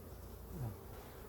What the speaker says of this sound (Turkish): arı şu an yine nektar getirmeye başlamış arkadaşlar